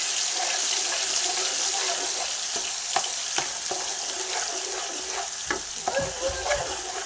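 Ginger garlic paste frying in hot oil with a dense, continuous bright sizzle, broken by a few light spoon scrapes and taps toward the end; close and steady, no speech.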